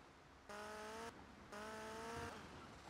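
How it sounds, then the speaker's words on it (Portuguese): Motorcycle engine in the video game Grand Theft Auto: Vice City, revving in two short, faint bursts with a steady tonal drone between them. "esta moto é um bocado complicada de controlar"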